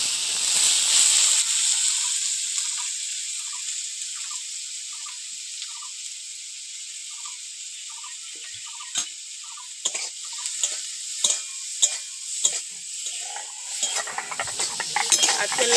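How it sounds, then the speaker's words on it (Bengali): Shrimp coated in salt and turmeric fry in hot oil, a steady bright sizzle and hiss that fades slightly, then returns with scattered crackles and pops near the end, with no voices. "এবার লবণ হলুদ মাখিয়ে চিংড়ি মাছগুলো ভেজে নেব"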